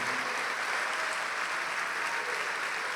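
A church congregation claps in praise, dense continuous applause from many hands filling the room, steady and even without a break.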